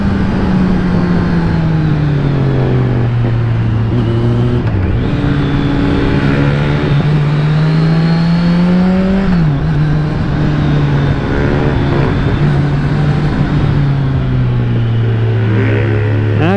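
A 125 cc motorcycle engine revs hard and steady through a curve, loud and close, its pitch dipping and climbing as the rider works the throttle, with no talk.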